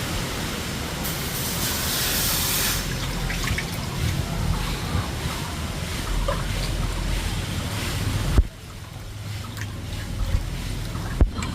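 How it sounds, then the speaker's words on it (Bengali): Water pours into a pot of jackfruit and potatoes on a lit stove for boiling, a steady rushing splash that runs for several seconds before stopping abruptly, followed by quieter clinks. "এবার আমরা এঁচোড়টা সিদ্ধ করার জন্য পরিমাণ মতো জল দিয়ে দেব।"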